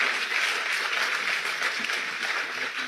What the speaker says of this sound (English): You will see clapping.